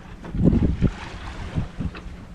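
Wind rushing and buffeting against the microphone on a moving sailboat on a broad reach, with irregular low gusts swelling and fading, no voices.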